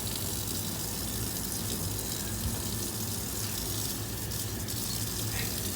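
Water runs steadily from a tap, a continuous broadband rush that stays even for several seconds with no voices.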